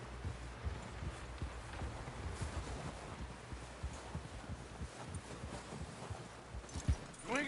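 Horse hooves clip-clop steadily over a trail in Red Dead Redemption 2, a loose rhythmic patter of footfalls beneath ambient game noise and faint rustling, with no voices in the clip.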